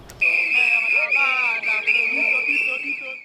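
Piercing whistles shrill continuously at a street protest in the Democratic Republic of Congo, several blown at once with fluttering trills, loud and close, with chanting voices faintly mixed beneath.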